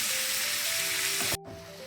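Tomato chutney ingredients sauté in a hot pan with a steady, loud sizzle that cuts off abruptly near the end, leaving a quieter hiss.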